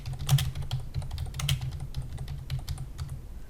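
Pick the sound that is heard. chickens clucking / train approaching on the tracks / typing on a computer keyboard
typing on a computer keyboard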